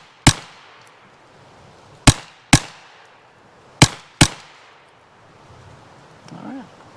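Armi Jager AP74 .32 (7.65mm) semi-automatic rifle, an Italian AR-15 style clone, fired five times in uneven succession, each sharp crack close and loud with a short decaying tail, then a faint rustle.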